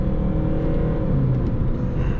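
A VW Polo V 1.6 TDI diesel with a 7-speed DSG held in manual third gear pulls hard, a loud steady interior engine drone with low rumble and a slowly rising tone.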